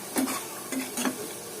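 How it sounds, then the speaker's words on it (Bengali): Spice masala being fried and stirred in oil in a pan, a few brief scraping strokes of the spoon over a soft, steady sizzle, close by. "খুব ভালো করে কষায় নেব যতক্ষণ পর্যন্ত তেলটা উপরে ভেসে না উঠবে আমি কষাতে থাকব"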